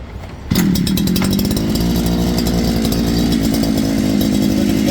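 Petrol brushcutter engine firing up after a pull start and settling into a loud, steady, buzzing two-stroke run, heard close with no talk.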